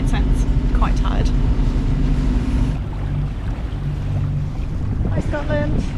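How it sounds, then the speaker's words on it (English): Sailboat motor-sailing with its engine running, a steady low drone and broadband wind rush throughout, with brief voice-like sounds near the start and end. "So we've got the motor on just to try and keep us moving"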